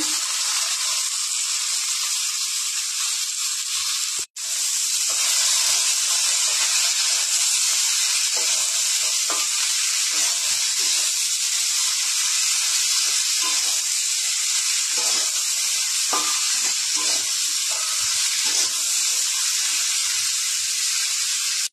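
Chopped papaya sizzles steadily in a pan with garlic for a Bengali papaya and fish-head ghonto, a loud, continuous frying hiss with small crackles and stirring clicks, briefly cut off once near the start.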